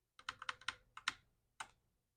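Keys clack on a computer keyboard during a typing test, a quick run of about eight crisp close strokes followed by a pause and one last tap.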